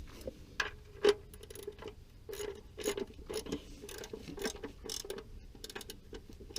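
A ratchet works a drain plug tight on a 1971 Fiat 124, producing quiet, close clicking in short irregular bursts.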